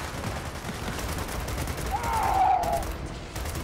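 Retro Lancer rifle fire in Gears of War 4 on Insane campaign, a dense continuous fusillade of game gunfire filling the whole stretch, loud and steady without clear pauses.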